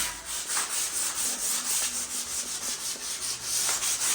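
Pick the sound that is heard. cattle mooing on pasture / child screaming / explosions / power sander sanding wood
power sander sanding wood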